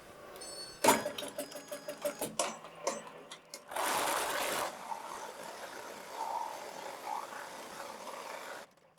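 A Melco embroidery machine stitching a monogram onto plastic, with rapid rhythmic stitching bursts followed by a steadier, fairly quiet mechanical whir that stops near the end.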